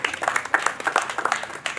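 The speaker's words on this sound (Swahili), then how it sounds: "Tumpigie makofi Mama Samia." A crowd at a public gathering in Bukombe claps for Mama Samia, a brief burst of uneven, fairly close clapping with sharp individual hand strikes.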